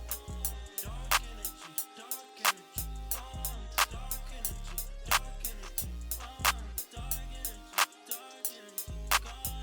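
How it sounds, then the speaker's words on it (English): A clap sample repeats in a trap beat alongside booming 808 bass notes and a steady hi-hat pattern, the crisp claps landing at regular intervals over the low, sustained bass. "Next up is the clap pattern"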